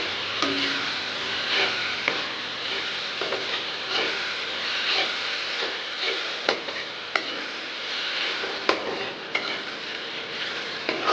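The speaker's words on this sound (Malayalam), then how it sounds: "സവാള ഇപ്പോൾ ചെറുതായിട്ടൊന്ന് വാടി വന്നിട്ടുണ്ട്. നന്നായിട്ട് ഇളക്കി കൊടുക്കുക" Sliced onions being stirred in a pan for egg roast, a steady soft sizzle with repeated scraping and clinking of the spoon against the pan, close and continuous with no talking.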